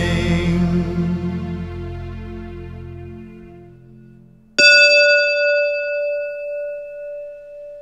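A sustained tone fades slowly, then a single bright bell strike rings out clearly and keeps resonating as it gradually decays.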